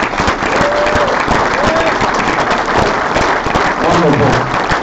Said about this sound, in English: give all the instructors, all the pressure washing staff, Spray Wash Academy a round of applause